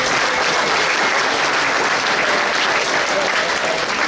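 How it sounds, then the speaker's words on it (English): An audience applauding at a Bigfoot-themed event, dense continuous clapping filling the room at steady loudness throughout, with no clear speech. "Let's give him a round of applause."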